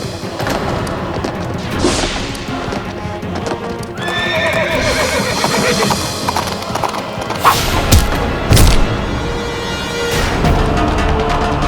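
A horse loudly neighs and whinnies, with clip-clopping hooves and a few heavy thumps, close and prominent without talk.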